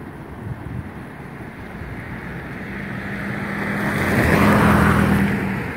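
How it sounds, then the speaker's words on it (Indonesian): Strong wind at a beach roars steadily across an open mic, swelling louder toward the end, with a faint low engine-like hum underneath and no speech. "anginnya banter ya teman-teman ya."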